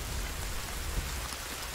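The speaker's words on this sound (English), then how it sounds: "Build your shelter. It's raining." Steady rain falling in The Forest video game, a constant soft hiss of drops on surfaces filling the whole stretch without pause.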